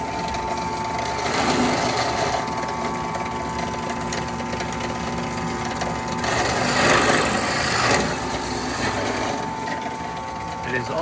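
A drill press powered from a BatteryEVO Walrus G4 power station runs continuously with a steady mechanical whir and hum, swelling slightly at moments, close by and fairly loud.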